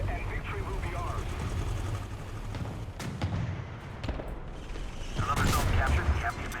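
An artillery strike lands in the tank game War Thunder, with several heavy booms and rumbling blasts at mid distance and a louder burst near the end, under shouted radio callouts.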